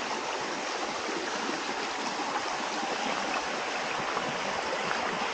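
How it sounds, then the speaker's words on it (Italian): Steady rushing water flows continuously beside a trail, released from irrigation pipes, a broad even hiss of a stream close by with no pauses or voices. "hanno aperto qualche tubazione e oggi scorre l'acqua accanto al sentiero"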